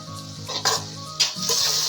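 Carrot halwa with sugar sizzling in a pan on the stove, with soft scraping and stirring strokes breaking in every half second or so over a steady frying hiss.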